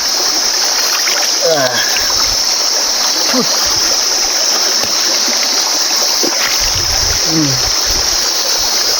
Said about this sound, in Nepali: सल्ल खोलो बगेको छ सरर आफ्नै गतिमा